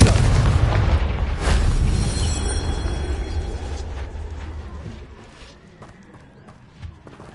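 The Confringo explosion spell in a video game goes off with a heavy boom that fades into a long rumbling decay, with scattered crackles and faint sounds following.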